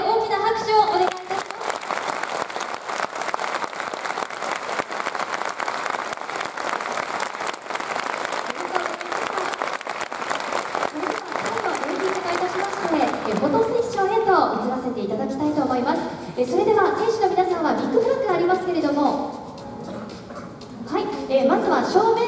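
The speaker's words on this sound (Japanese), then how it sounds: "よろしければ激励も込めて大きな拍手をお願いします。" Sustained audience applause for the players at the Sagan Tosu 2024 team presentation, a dense crowd clapping that fades into a host speaking over the last seconds.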